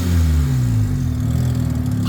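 A Mazda RX7 wide-body with a T04R turbo and straight-pipe exhaust, engine revving loud and close, a steady rough rotary drone with pitch swells throughout, no talking.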